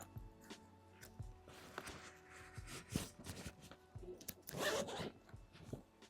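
The expansion zipper on a Travelpro Altitude business brief bag is pulled in several quick, raspy runs, close and quiet, with a longer, louder zip near the end and no talking.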